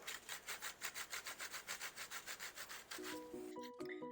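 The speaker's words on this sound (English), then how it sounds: "And then you're going to add in your fruits and grate in your oranges" Oranges are grated for cranberry, citrus and apricot muffins, a quick back-and-forth rasping in an even rhythm, close and soft, ending in a few light clinks.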